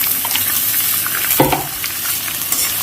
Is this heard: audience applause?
no